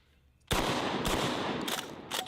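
A bullpup shotgun fires in a video game, a loud sustained burst of rapid blasts with sharp repeated reports cracking through the noise over about two seconds.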